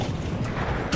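A grenade explosion in the video game Arc Raiders, heard as a dense, loud, rumbling blast that fills the whole moment, with a sharper burst at the very end.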